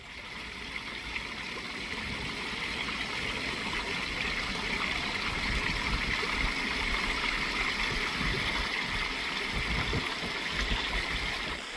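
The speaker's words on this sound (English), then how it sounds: "The waterfalls still look good though." A garden pond waterfall flows steadily, a continuous moderate rush and trickle of falling water with gurgling detail, heard alone at close range.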